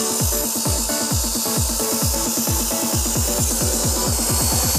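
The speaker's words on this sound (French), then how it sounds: "Tu laisses la scie travailler." Hand saw cutting through a good piece of wood with slow, steady strokes, a regular rhythmic rasp repeating about four times a second, close and clear with no talking.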